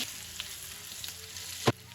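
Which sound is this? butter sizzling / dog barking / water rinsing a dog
butter sizzling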